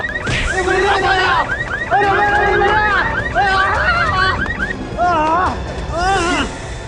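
A loud wailing siren with rising and falling warbles, repeating continuously amid agitated background voices.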